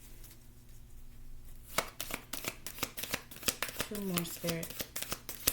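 Tarot cards are shuffled in a quick run of crisp riffling taps, close and clear, starting after a quiet moment, with a voice talking briefly over them.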